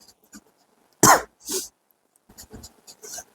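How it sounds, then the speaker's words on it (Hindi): A man coughs in a quiet room: one sharp, loud cough followed by a second shorter one, then softer throat-clearing and breathy coughs trailing off. "थोड़ा खांसी आ रहा है,"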